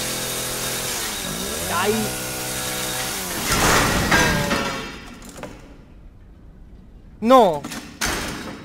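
A chainsaw revs and cuts through a door in the video game Resident Evil 7: loud, rising mechanical whines and grinding, with thuds near the end, heard under someone speaking Italian.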